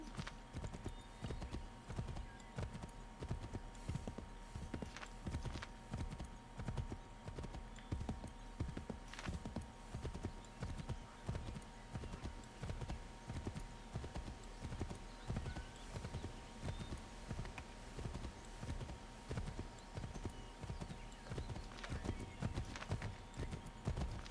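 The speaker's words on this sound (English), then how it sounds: "Oh, he automatically called for the horse." Rhythmic hoofbeats of a galloping horse in the video game Assassin's Creed III, steady and continuous throughout, fairly quiet with a faint tonal hum underneath.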